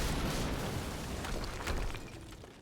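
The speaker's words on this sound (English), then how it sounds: "HQ, we just heard an explosion near the harvesting perimeter" A broad, rumbling explosion in Quantum Break roars at full strength, then its noisy blast gradually fades over a couple of seconds.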